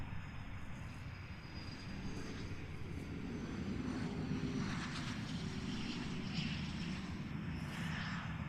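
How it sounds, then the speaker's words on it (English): A Pilatus PC-24 business jet touches down at London Luton Airport, heard as a low, broad engine roar with some whine, steady and fairly faint at a distance, with no talk over it. "Super quiet PC24 touching down."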